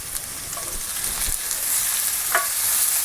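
Onions fry in a pan for vegan tacos, a soft steady sizzle with a couple of brief stirring clicks and scrapes, close and without talk.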